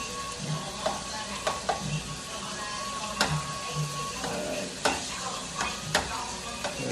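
Lamb frying in a pan: a steady sizzle runs throughout while a utensil stirs and scrapes it in repeated short strokes, close and moderately loud.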